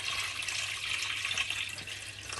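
Water pours steadily into a cooking pot of rice for pulao, a continuous close splashing rush that holds evenly for a couple of seconds with no voices.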